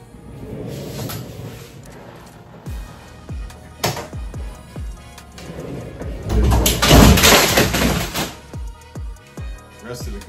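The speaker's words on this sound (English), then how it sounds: "The rest of the guns fell." Several long guns tumble inside a Winchester 20 long gun safe, a run of heavy wooden thuds and knocks followed by a louder clattering slide, with voices speaking between the impacts.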